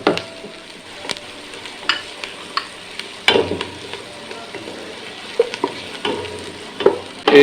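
Black pepper powder stirred into beef and vegetable pasta in a pan, giving a continuous sizzle broken by repeated sharp scrapes and clinks of the spoon, with no talking.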